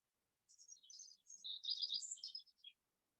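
Several small birds chirp and tweet in quick, high bursts, close and clear against total quiet, falling silent after a couple of seconds.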